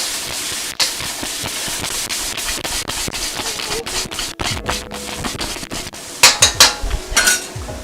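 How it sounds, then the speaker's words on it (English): Noodles going into a hot pan for fried shallot sesame dan dan noodles, a steady sizzling hiss with scraping and rubbing, then a cluster of sharp clinks and rattles of utensils near the end. "So those are our noodles going in."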